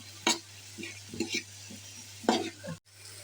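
Spoon scraping and stirring pumpkin bhaji in a frying pan over a steady sizzle, with a few distinct bursts of scraping strokes separated by quieter frying, close up.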